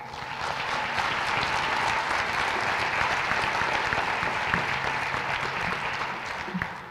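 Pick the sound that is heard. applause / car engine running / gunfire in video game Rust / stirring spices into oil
applause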